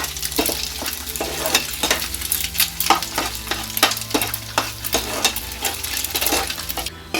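Plain eggs frying in a pan, a steady close sizzle with repeated light scraping and stirring clicks of a utensil against the metal throughout.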